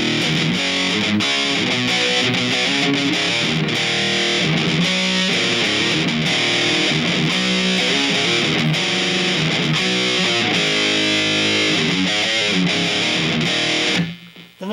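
A heavily distorted electric guitar played through a Boss eBand JS-10 with an 80s glam overdrive tone, with loud, sustained riffing and chords throughout before cutting off abruptly at the end.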